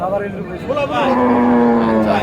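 A cow lowing at a busy cattle market, a drawn-out moo close by, with voices of people talking around it.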